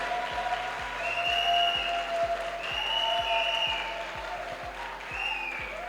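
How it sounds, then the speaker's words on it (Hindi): Audience applause fills a network marketing seminar hall, steady and sustained throughout, with a regular low thumping beat and tonal music running underneath. "इसके लिए तालियों की कमी नहीं होनी चाहिए"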